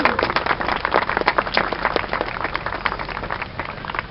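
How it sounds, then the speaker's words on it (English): Outdoor crowd at the Edison Memorial Tower lighting ceremony in Menlo Park claps in a scattered, moderately distant round of applause that holds steady throughout. "So give yourself a round of applause."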